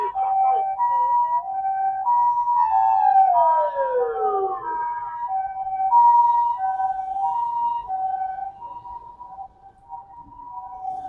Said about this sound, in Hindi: तो आई थॉट एम्बुलेंस निकल जाए फिर आपसे बात करते हैं।